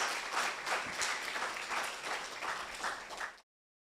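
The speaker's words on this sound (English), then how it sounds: "Can we get a round of applause for those persons?" Audience at a launch event applauds in a steady, dense wash of clapping, moderately distant and even, fading out abruptly after a few seconds.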